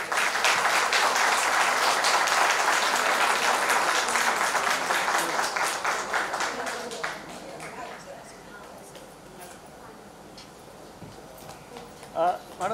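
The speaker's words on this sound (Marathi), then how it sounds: "कृपया सर्वांनी टाळ्या वाजवाव्यात." Audience applause at a Marathi reunion gathering honouring a teacher, dense and loud clapping for about seven seconds before thinning out into scattered claps and room noise.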